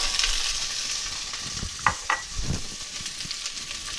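Onion and carrots sauté in hot coconut oil, a close crackling sizzle with a few soft knocks and scrapes of stirring midway.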